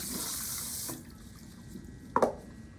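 Water runs from a salon tap while shampoo is rinsed out of hair, a steady hiss that softens after about a second, followed by a brief splashing burst near the end; no talking.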